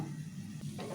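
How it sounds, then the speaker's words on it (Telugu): Ivy gourd (tindora) pieces frying in oil, giving a dense, continuous sizzle heard close up and alone for a brief moment. "ఇక మంచిగా ఇట్లా ఫ్రై చేసుకోవాలి దొండకాయలు"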